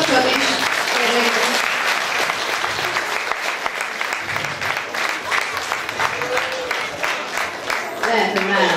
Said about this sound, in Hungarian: Egy kis tapsot is kérnék.